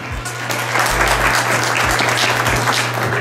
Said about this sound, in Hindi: गफ्फार साहब, बहुत सारी तालियों में